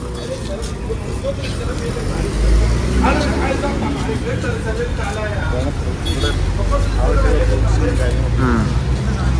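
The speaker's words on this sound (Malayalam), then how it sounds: "ഇവിടുത്തെ ബസ് അല്ലേ ഇതാണ് ബാബു ഷാരിയ" A city bus passes on a busy Cairo street in Old Cairo near a vegetable market, its engine rumble steady and close amid continuous traffic noise, with a voice talking over it.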